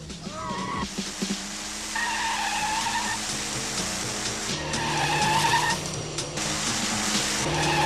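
A car in a 1989 film chase, tailing a motorbike through the South Bronx, revs hard with tires squealing in long skids over a loud continuous engine roar.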